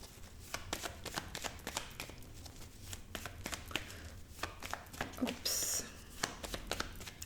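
A deck of Lenormand cards is cut and handled by hand, giving a rapid run of crisp papery slaps and riffles, close and fairly loud, with faint speech underneath.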